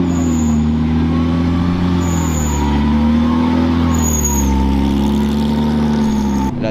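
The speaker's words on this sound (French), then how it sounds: "il y a la voiture de course derrière, je sais toujours pas ce que c'est." A race car idles and rumbles with a deep, steady engine tone close by at a car event, with high hissing bursts recurring briefly over the drone.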